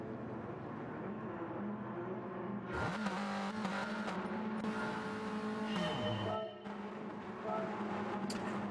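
Engines of race cars in a sim racing video game rise and whine together as the race gets under way, a layered droning roar that swells and shifts pitch steadily across the clip.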